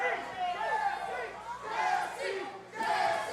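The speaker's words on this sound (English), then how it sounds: "This crowd trying to will on the OVW National Heavyweight Champion" A wrestling crowd at an OVW tag-team match roars and chants in surging waves, rising and falling loudly across the arena as fans urge on the heavyweight champion.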